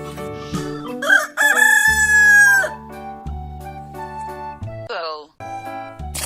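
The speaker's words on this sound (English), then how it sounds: "Cock." A rooster crows loudly and close, one long drawn-out call rising over a background of music, with a few shorter bird cries around it and a brief squeaky toy-like sound near the end.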